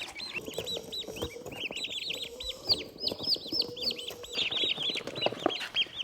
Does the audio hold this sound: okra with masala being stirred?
no